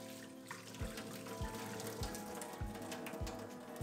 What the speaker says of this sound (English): Drain the hot water.